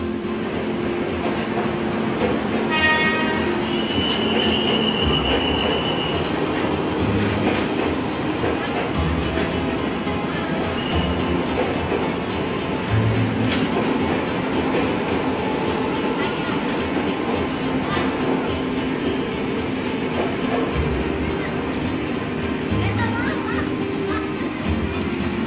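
A train passes straight through a railway station platform on track 3 without stopping, with steady rolling rumble and a brief whistle or squeal early on, under continuous station ambience and distant voices.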